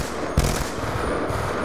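Sustained automatic gunfire rattles in a Black Ops 2 Search and Destroy match, a loud rapid burst with a sharp report near the start and continuous shots after.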